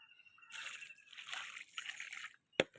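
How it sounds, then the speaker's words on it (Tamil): Water poured into a pot holding a freshly planted elephant ear plant, a close, soft splashing and trickling that lasts about two seconds, followed by a sharp click. "நட்டு தண்ணியை விட்டுருவோம்"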